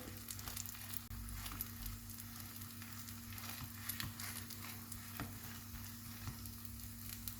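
Crêpe-style batter sizzling steadily in a hot frying pan, a continuous close fry hiss with a low hum beneath and occasional soft stirring scrapes, no voices.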